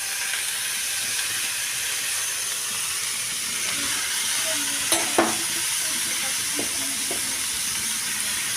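Chopped onion sizzles steadily in hot oil, a loud, close, continuous frying hiss with a few faint knocks and clinks from stirring, and no talking.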